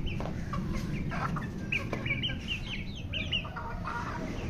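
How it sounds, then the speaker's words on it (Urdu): Chickens, a rooster among the hens, cluck steadily with scattered sharp calls over a busy farmyard background, moderately close and without talk. "مرغا ہمارا اس چکر میں ہے کہ یہ آئے نیچے آئے۔"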